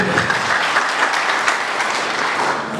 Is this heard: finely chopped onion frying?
no